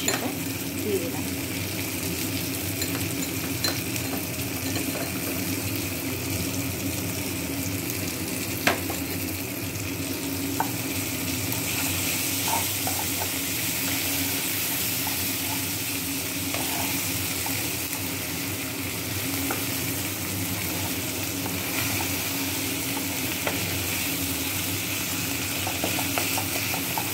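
Ginger garlic paste sizzling in a pan with softened tomatoes for a broccoli and potato curry: a steady, even frying hiss throughout, with occasional light stirring clinks and faint talk underneath.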